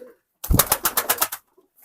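A short, close burst of pigeon sounds, a quick run of about eight pulsing beats lasting roughly a second, then quiet.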